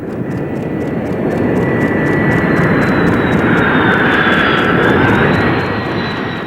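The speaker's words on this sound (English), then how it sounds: "optimism was high in the F-23 camp as the first flight came to a flawless touchdown" An F-23 jet aircraft lands at touchdown after its first flight, heard as a loud, continuous jet engine roar with a whining tone that shifts slightly in pitch, steady throughout with no voices.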